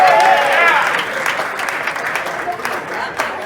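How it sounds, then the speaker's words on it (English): Audience applause honoring Mr. Oliver Johnson at a commemorative evening event, a full round of many hands clapping steadily, with voices briefly audible over the opening moments. "Another round of applause for Mr. Oliver Johnson."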